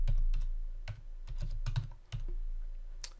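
Keys typed on a computer keyboard while entering a street name into mapping software, a rapid irregular run of close, crisp clicks over a low steady hum.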